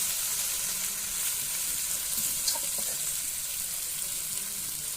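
Tilapia fish frying in a pan in a village kitchen, a steady faint sizzle of hot oil running continuously with a few soft stirring clicks and no talking.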